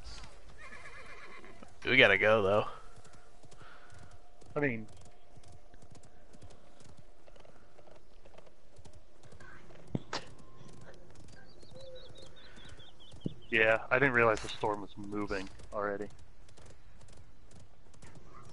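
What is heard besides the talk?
horse galloping and neighing in the video game Realm Royale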